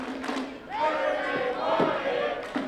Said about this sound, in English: Crowd urging on Jeremy Wyatt.